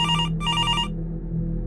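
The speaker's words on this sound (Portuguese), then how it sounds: "Felizmente, meu telefone começou a tocar." A phone ringtone rings loudly and close in two quick bursts of bright electronic tones with a short gap between them, then cuts off, leaving a low steady hum beneath.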